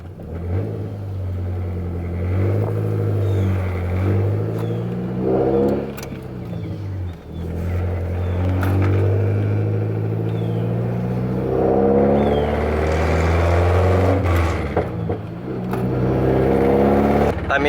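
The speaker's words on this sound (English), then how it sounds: "Let's go take this thing for a spin around the block." A car with a fairly new clutch driving around the block, its engine droning and rising in pitch through several gear changes, with pauses where revs drop between shifts, loud and close throughout.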